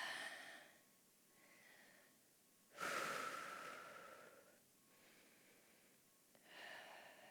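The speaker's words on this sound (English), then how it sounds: "And breathe." Slow, deep breaths during a shoulder and chest stretch against a wall, soft airy inhales and exhales close to the mic, with one stronger, louder exhale in the middle and quieter breaths around it.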